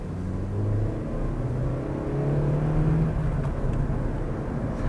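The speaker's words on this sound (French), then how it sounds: "On va faire une petite accélération avec une voiture de 90 chevaux" A 90-horsepower car accelerating hard, a steady engine drone rising gently in pitch as it gathers speed, heard from inside the cabin, continuous and fairly loud with no talking.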